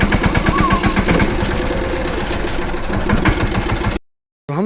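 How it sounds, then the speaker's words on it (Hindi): Tractor engine running at a cowshed farm, a steady near, loud chugging diesel idle with a regular knocking rhythm that carries on until it cuts out abruptly near the end. "अब जा रहे हैं ट्रैक्टर लेके"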